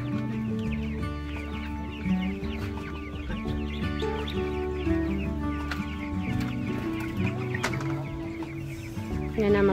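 Chickens cluck busily and continuously at close range, several birds overlapping in a steady chorus of short calls with occasional sharper squawks, no talk over them.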